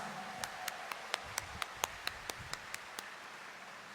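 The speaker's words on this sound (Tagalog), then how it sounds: "Ang gustong pagpalain ng Diyos, itaas ang kamay at pumalakpak ng mas malakas." A church congregation at a Wednesday Mass in Quiapo Church claps in a steady, evenly spaced rhythm, with about a dozen distinct beats. The clapping sounds distant and fairly soft over the room's background hum.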